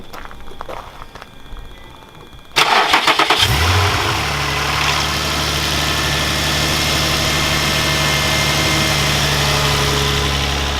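An Infiniti G35 fitted with a new budget intake cranks over briefly and catches, then settles into a loud, steady, throaty idle that holds for several seconds after quieter background sounds at the start.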